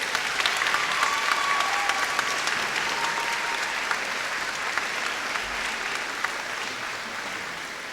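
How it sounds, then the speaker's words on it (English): A graduation audience applauds the faculty, with dense sustained clapping from a large crowd filling the room and holding steady throughout. "Would you please give them a well-deserved round of applause?"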